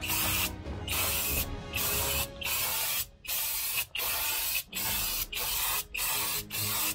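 An aerosol can sprays light coats of lacquer onto a Revell Star Wars U-Wing model kit. It gives loud, close hissing bursts, each about a second long, in a steady series separated by short pauses, with no talking.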